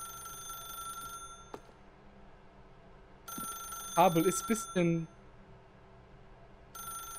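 A telephone rings in The Stanley Parable game with steady electronic tones, breaking off and then returning, while someone talks and gives a short exclamation in the middle.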